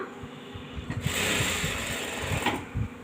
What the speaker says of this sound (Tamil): ரெண்டு பீஸையுமே சேர்த்து சேர்த்து தைக்கிறேன்